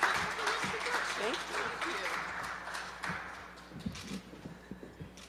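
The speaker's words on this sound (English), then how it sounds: "let's give NECA a great round of applause for a lovely introduction" Applause from an audience at a mayoral press announcement in a city hall setting, a fairly loud wash of clapping that gradually thins and fades, with voices murmuring underneath.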